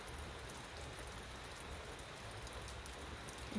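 Heavy rain falling outdoors, a steady dense hiss of drops with no let-up, faint and distant in level and free of voices.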